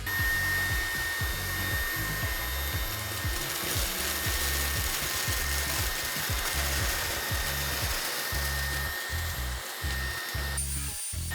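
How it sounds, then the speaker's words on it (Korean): Handheld cordless vacuum cleaner sucking up coffee grounds, dog food and ramen crumbs, a continuous loud motor whir with rapid rattling and clattering as debris is pulled in, close up and uninterrupted by speech. "커피가루, 강아지 사료, 라면 바 쓰레기, 솔직히 요 정도 빨아들이면 청소기는 문제 없잖아요."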